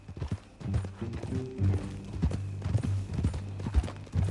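Horse hooves clip-clop in an irregular walking rhythm in Red Dead Redemption 2, moderately close, with tack creaking softly and a faint snort.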